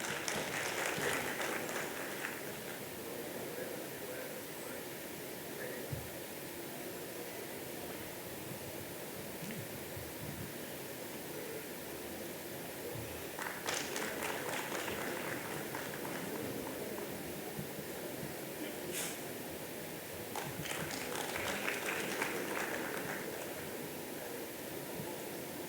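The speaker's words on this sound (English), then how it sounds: "Can we have a huge round of applause, ladies and gentlemen?" An audience at a national cost and management accountants convention applauds in a faint, distant wash of clapping that swells in several bursts over about twenty-five seconds.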